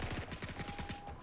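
A revamped FN FAL rifle in the shooter game BRM5 fires a rapid, even burst of about ten close, punchy shots in little more than a second.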